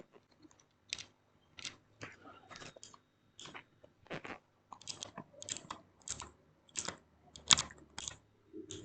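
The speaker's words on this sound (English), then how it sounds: "Okay, so this is the blue thumb switch." Outemu blue mechanical keyboard switches click sharply under a finger, giving a sequence of crisp, close presses in an uneven rhythm with short gaps, quiet and isolated.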